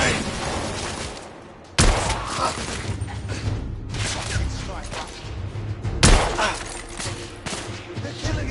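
A grenade blast in The Order: 1886 lands amid rolling gunfire and thuds: loud, close bursts hitting hard at intervals over a continuous din of battle, with voices shouting underneath.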